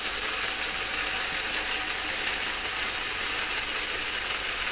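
A large robot arm's motor runs steadily as it moves under slider control, a continuous whirring, grinding mechanical drone at moderate level with no pauses and no voices.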